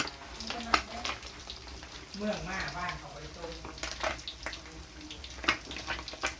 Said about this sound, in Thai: อันนี้คือทอดปลา